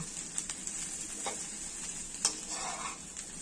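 Rice being stirred in a pan with chilli, turmeric, coriander and cumin powders for bhuna khichdi, a gentle steady sizzle with a few soft scrapes of the spoon, quiet and close.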